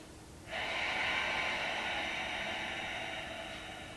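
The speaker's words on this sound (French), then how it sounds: "Allez, une dernière respiration comme ça." One long, steady breath during deep abdominal exercise, a close hissing rush of air that starts abruptly and holds for several seconds before slowly fading, with no talk.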